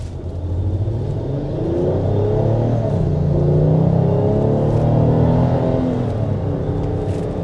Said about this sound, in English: that acceleration there showed you just kind of how smooth and refined this V6 is